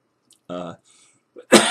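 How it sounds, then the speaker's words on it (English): A short throaty burst near the start, then a harsh, loud hacking cough close to the microphone at the end. "I still have that hacking cough that comes"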